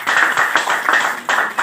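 Loud audience applause from a crowd at a company event, dense clapping in bursts with brief swells, alone with no speech.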